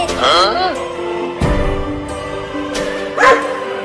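Cartoon dogs chase a cat, and a few short barks cut through animated voices speaking over the scene.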